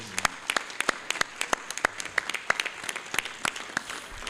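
A moderate audience at a Philadelphia mayoral forum on gun violence claps for the moderator, with distinct individual claps in a scattered, uneven rhythm, fairly soft and a little distant.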